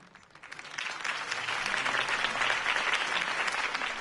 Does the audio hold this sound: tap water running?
no